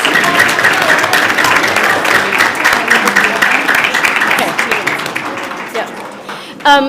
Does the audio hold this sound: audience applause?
yes